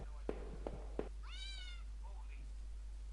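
In the horror adventure game Home, a single faint, rising cat meow follows a few soft knocks, set against a low steady hum.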